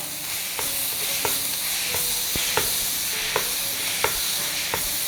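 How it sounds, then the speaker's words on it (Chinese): Button mushrooms and tomato are stir-fried with onion and minced garlic in a small pan: a steady low sizzle with regular spatula scrapes about every second, close and moderately loud, with no talking. "接下来下入什么呢？ 口蘑、番茄，给它炒一炒"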